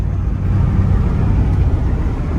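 A 1992 Chevrolet Camaro RS drives along with a loud, steady low engine drone and road rumble heard from inside the car, no voices over it.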